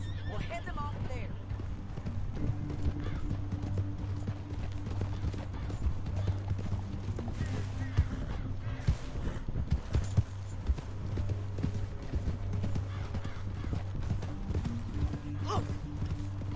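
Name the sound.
horses walking, hooves clip-clopping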